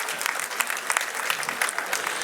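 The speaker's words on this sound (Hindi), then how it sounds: "आपकी तरफ से भी करतल ध्वनि से जोरदार स्वागत होना चाहिए।" An audience of traders claps to welcome Piyush Goyal at a political gathering, a dense crackling round of applause with sharp individual claps standing out, steady throughout.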